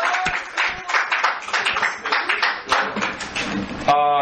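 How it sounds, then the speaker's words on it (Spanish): A church congregation claps in a rhythmic, uneven burst while voices call out over it, and music swells briefly at the end. "Denle un aplauso al Rey bendito"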